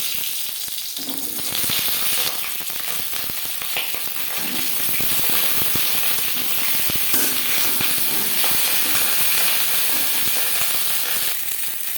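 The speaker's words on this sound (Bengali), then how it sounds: "দু চামচ সর্ষার তেল গরম করে নিয়েছি দিয়ে দেবো পটল" Pointed gourd frying in hot mustard oil gives a steady, loud sizzle and hiss lasting throughout, with occasional stirring scrapes and crackles and no talking.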